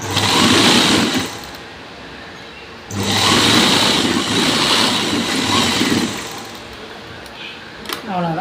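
An electric sewing machine stitching a strip onto the back piece of a blouse, two sustained whirring runs close by, with a short pause between them.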